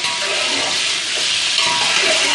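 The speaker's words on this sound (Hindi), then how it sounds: "इसे 1 मिनट भूनेंगे।" Beef sizzles as it fries in a pot for beef yakhni pulao, a loud, steady hiss and crackle that fills the whole stretch without pause.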